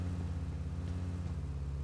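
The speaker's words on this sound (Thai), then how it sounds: "เสียงรถอะ" A steady, low car engine drone in the video game PUBG Lite runs quietly and continuously, with no talking.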